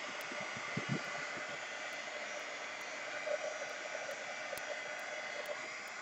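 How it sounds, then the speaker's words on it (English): A hair dryer blows on a painted canvas to dry the paint, a steady, loud whooshing hum that runs unbroken throughout, with a few faint handling bumps near the start. "Now I'm going to use the dryer on it."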